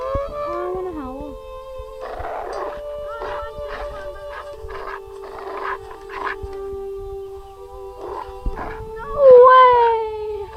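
Wolves howl in a video game, with drawn-out wavering howls and yips rising and falling over about ten seconds, and a person talks in between.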